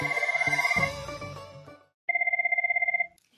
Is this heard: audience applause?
no